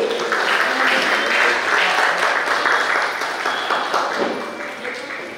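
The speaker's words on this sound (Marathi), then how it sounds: "दोन्ही भजनी मंडळांसाठी जोरदार टाळ्या होऊ दे." An audience claps in steady, dense applause for two bhajan groups at a memorial lecture gathering, loud and sustained throughout before easing slightly toward the end.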